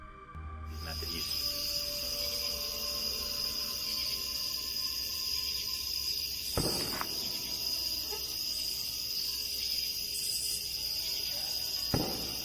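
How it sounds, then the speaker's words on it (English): Steady, continuous chirping of crickets fills the scene, a dense high trill that holds evenly throughout with a couple of faint clicks. "the rhythmic chirping of crickets creates the illusion of a peaceful evening"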